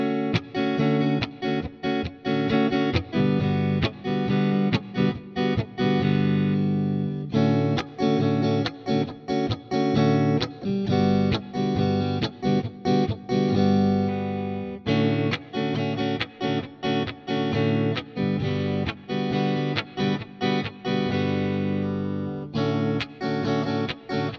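A budget Glarry GST Strat-style electric guitar plays clean strummed chords and riffs, pausing between short passages as each pickup selection is tried, the tone shifting slightly from section to section, with no talking.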